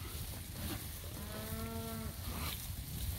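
Cattle in a mob being moved down a hillside, one low drawn-out moo rising out of steady outdoor rumble and wind, fairly distant and alone without talk.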